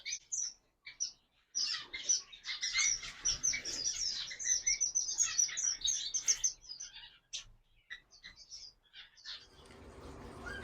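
A flock of pet birds chirping and tweeting in a busy burst of bright, overlapping calls, close and fairly quiet, tapering into sparse chirps with a soft rustle near the end.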